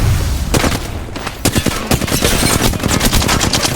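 Gunfire from the video game Apex Legends: rapid bursts of automatic fire mixed with sharper single shots. The cracks are loud and close, packed densely across the whole clip.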